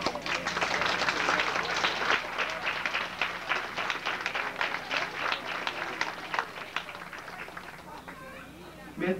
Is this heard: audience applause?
yes